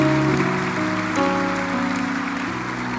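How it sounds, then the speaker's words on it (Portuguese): Congregation clapping at a church festival service, a steady wash of applause from a crowd, moderately loud and continuous for several seconds, with a sustained musical tone underneath. "Você quer aplaudir o Senhor?"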